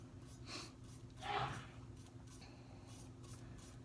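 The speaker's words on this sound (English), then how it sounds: "my husband sneezing in the background" A husband sneezes once, faint and in the background, a single short burst rising over a steady low hum.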